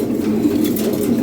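European Lahori Sirazi pigeons cooing steadily up close, a continuous low, throaty burbling that fills the moment with no voices over it.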